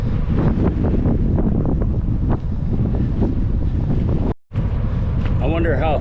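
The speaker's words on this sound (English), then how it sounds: "we just turned east up here in Minnesota, and we got the headwind" Strong headwind buffets the microphone while cycling east in Minnesota on a long road ride, a loud continuous roar with gusting rumble, briefly cutting out before resuming.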